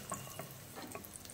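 Cashews and raisins frying in oil as a tempering for rava kanji, a soft continuous sizzle with light stirring scrapes and small pops, fairly quiet and close.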